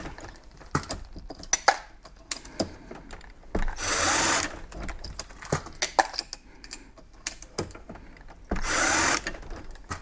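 A power case trimmer sizes, trims, chamfers and deburrs rifle brass, with two loud motorized whirs about a second long each, separated by quick metallic clicks and clinks as the casings are handled.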